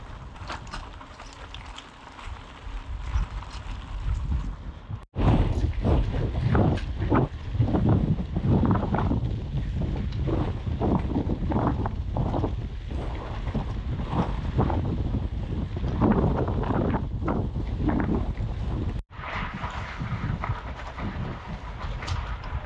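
Strong wind buffets the microphone in a constant roaring rush while riding a mountain bike across open fields without roads in rain, with brief gaps where the gusts drop out.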